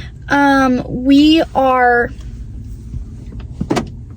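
A car locks with a few rising electronic chirps, loud and close, followed by a quieter click and a short clatter near the end.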